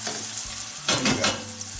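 Spices stirred in hot oil sizzle with a steady broadband fry, broken by two brief louder scraping swells of the stirring, close and continuous with no talk.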